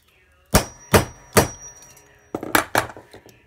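A good hammer strikes metal stamping for a bolo tie, landing five sharp, ringing blows: three evenly spaced, a pause, then two more close together, each loud and close with a bright metallic ring.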